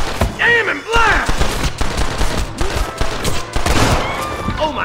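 Rapid bursts of gunfire in the Red Dead Redemption western game on PC, several shots cracking in quick succession over a busy, dense mix of game sound.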